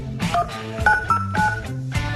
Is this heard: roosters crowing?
no